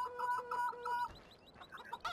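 Chickens cluck in Farming Simulator 2015, with repeated short calls in a steady rhythm that give way to scattered, fainter clucks and a sharp squawk at the end. No voices accompany them.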